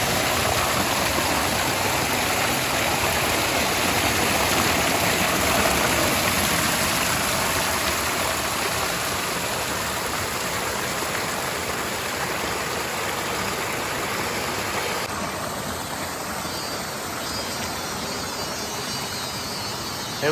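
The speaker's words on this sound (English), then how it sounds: "Right now, I'm at the waterfall, and you know, the water here is very clean" Steady rushing water at a clean mountain waterfall among rocks in Vietnam's Central Highlands, a loud continuous broadband roar filling the whole stretch with no talk, its tone shifting slightly partway through.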